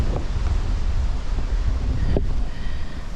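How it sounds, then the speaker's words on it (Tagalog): Strong wind rushing across a high mountain ridge on the Taripis-Igamtindog traverse, a continuous loud roar buffeting the microphone with no talking. "So naririnig nyo yung rush ng wind dito sa ridge."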